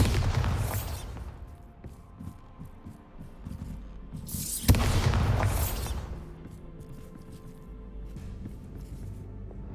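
Two loud, booming blasts from the Bombarda spell in Hogwarts Legacy, one near the start and a sharper one just before the midpoint, each bursting broadly and trailing off into a rumbling low tail.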